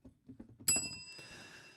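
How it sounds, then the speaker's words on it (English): A bell struck once during a podcast conversation, a bright ringing hit that sustains and slowly decays, following low murmured talk. "You can't hit the bell for that."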